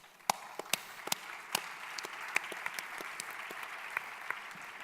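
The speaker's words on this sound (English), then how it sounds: "please give yourself a big applause" Applause from a small audience at an innovation and circular economy summit panel: scattered, fairly faint clapping with a few sharper individual claps standing out, thinning toward the end.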